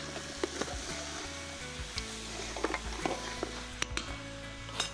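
Steady sizzling of meat, likely lamb or mutton, frying in a pan for Hungarian goulash, with occasional crackles and pops and faint clinks of stirring, no voices.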